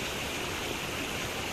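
Clear river water in Cavite flowing steadily, a dense broadband rush that stays constant and fairly close throughout, with no voices.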